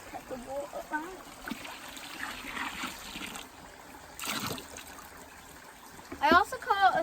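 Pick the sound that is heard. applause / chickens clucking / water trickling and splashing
water trickling and splashing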